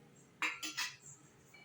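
A spoon scrapes and clinks against the metal of a pressure cooker while stirring soaked chickpeas, making three quick, close, fairly quiet metallic strokes in a row before a brief softer scrape.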